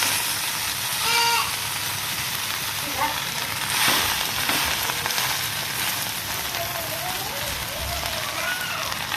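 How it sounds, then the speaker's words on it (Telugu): Gongura leaves frying in a little oil for chutney with green chillies, a continuous crackling sizzle with occasional stirring, while someone talks over it throughout. "సో ఇలా లాస్ట్కి ఫ్రై అయ్యే వరకు జస్ట్ ఆయిల్ కొంచెం వేసేసి ఫ్రై చేసేసాను."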